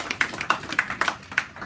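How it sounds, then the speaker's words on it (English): A handful of sparse, light claps from a few audience members at a business seminar, short uneven taps with quiet pauses between them. "Give yourself a round of applause."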